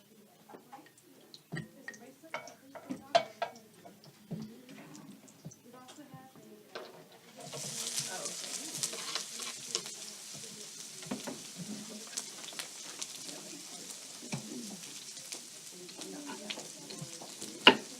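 Food fries in coconut oil, the sizzle starting abruptly partway through and then hissing steadily at moderate level after a stretch of quieter clinks and handling sounds.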